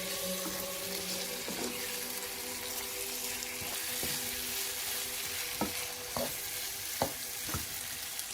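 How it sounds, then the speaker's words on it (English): Marinated chicken frying with translucent onions in a pan, a steady sizzle running throughout, with a few sharp clinks of a utensil stirring near the end. "With the onions now translucent, add our marinated chicken. Begin the process of braising until it attains a gorgeous color"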